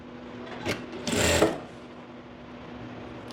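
A sewing machine stitches a ladies' pant in a short run of about half a second, after a brief tap. Near and fairly loud, with quiet room tone before and after.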